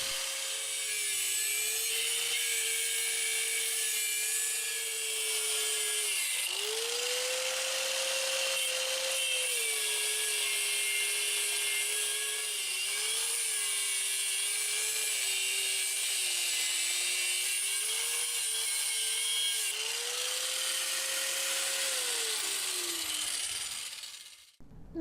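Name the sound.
cheap angle grinder with cutoff wheel cutting brick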